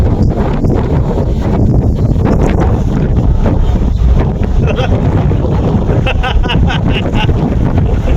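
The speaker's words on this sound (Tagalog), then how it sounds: "Grabe lakas ang hangin, oh." Strong wind buffets the microphone in loud, continuous roaring gusts, with faint voices and outdoor sounds barely audible beneath.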